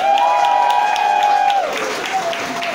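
Concert crowd claps for a band at a Christmas homecoming show, scattered claps running under a loud sustained held tone that bends down and fades midway, with a voice or instrument lingering over the applause.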